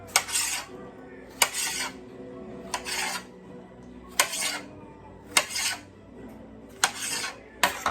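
A knife cuts tomatoes on a board, six or seven sharp chopping knocks spaced about a second and a half apart, each with a brief crisp scrape, close and fairly loud with quiet between.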